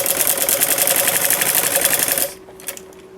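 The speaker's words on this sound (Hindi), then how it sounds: "अब इसके बाद हम एक सिलाई यहाँ नीचे की तरफ भी अच्छे से लगाएंगे" A sewing machine stitching a fabric sleeve runs loudly and steadily with a fast, even whir for about two seconds, then stops, leaving a faint hum and a few light clicks.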